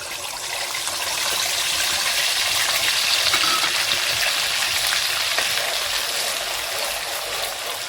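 Onion, garlic and ginger paste hits hot oil in a pan while making mutton masala, giving a loud, steady, close sizzle that holds without pause and has no talking over it.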